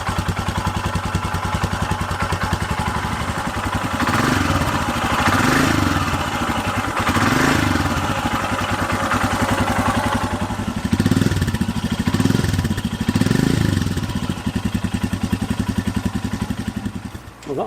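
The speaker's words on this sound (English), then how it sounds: "we'll do a comparison with what the old exhaust sounds like. So this is the old exhaust," A Royal Enfield Himalayan motorcycle fitted with its old stock exhaust idles about a metre from the microphone, a steady loud thumping rumble with a few slight swells in revs throughout.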